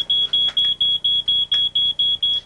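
A smoke alarm beeps in a rapid, even series of about ten loud piercing chirps, each short and evenly spaced, with nothing else around it.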